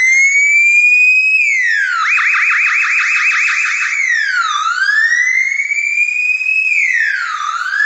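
A loud police siren wails steadily, switching between a slow rising-and-falling wail and a rapid yelp, with no other sounds.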